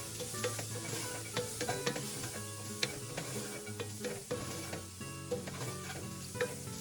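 Onions sweating in a pan with Cajun seasoning, stirred with a spoon that taps and scrapes irregularly over a steady close sizzle, no talking.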